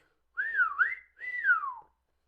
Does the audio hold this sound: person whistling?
yes